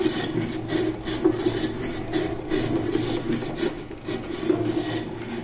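A manual machine cuts around the rim of a pressure cooker pan, giving a steady rasping, grinding scrape that runs continuously with small rhythmic pulses, close and fairly loud with no talking.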